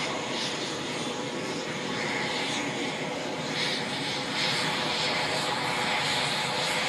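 An Italian Air Force aircraft flying a display at the Farnborough International Airshow gives a continuous, broad engine roar that stays loud and steady throughout, with no clear passes or breaks.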